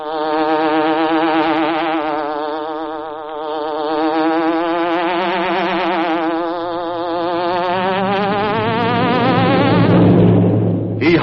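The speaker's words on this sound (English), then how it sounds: "The Green Hornet" A hornet buzzing sound effect opens the Green Hornet radio drama, a loud, close, wavering insect drone that swells and dips over about eleven seconds before cutting off.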